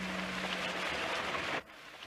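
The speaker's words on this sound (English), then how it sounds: "Jess looked out at the rain." Steady rain pattering outside on a wet day in a village setting, a dense continuous wash of drops that cuts off abruptly near the end.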